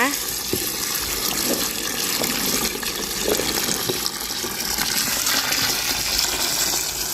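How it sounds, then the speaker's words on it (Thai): Chinda chili peppers being washed under a running tap, a steady close gush of water that goes on without a break while someone speaks over it. "ล้างให้เสด็จน้ำเลยนะคะ ล้างหลายๆน้ำเลยนะคะ"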